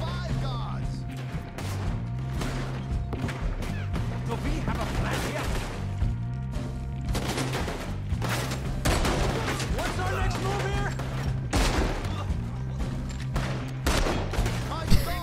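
Gunfire from the video game Red Dead Redemption 2, repeated sharp shots and impacts over a dense soundtrack and game effects, with a player speaking over it.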